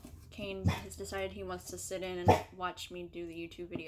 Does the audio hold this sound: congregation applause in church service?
no